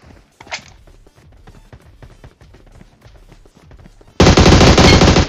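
Gunfire in the mobile game BGMI: quiet footsteps and scattered shots, then a sudden loud, sustained burst of rapid automatic fire at the end.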